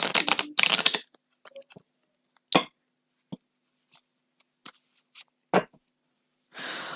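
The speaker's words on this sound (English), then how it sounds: "Let me just try to shuffle this." Tarot cards are shuffled by hand, a riffling burst at the start followed by sparse, sharp flicks and taps of cards in a quiet room, ending with another brief shuffle.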